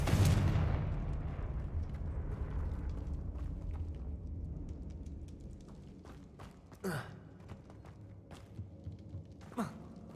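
A Confringo blasting spell explodes in the Hogwarts Legacy video game: a loud, booming burst at the start that decays into a long rumbling tail, followed later by two brief, sharp impacts.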